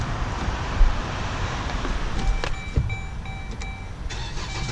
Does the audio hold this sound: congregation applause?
no